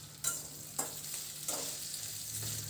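Dried bombil fish frying in hot oil, a soft steady sizzle broken by three scraping stir strokes against the pan, quiet and close, with no voices.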